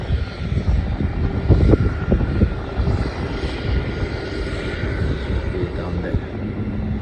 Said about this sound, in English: The next flight to land is a flight from the Sunshine Coast. Boeing 737 and this one by Qantas